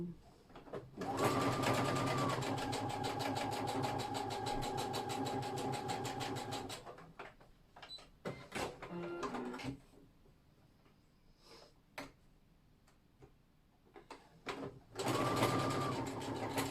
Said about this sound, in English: so there's the top stitching done on the coin pocket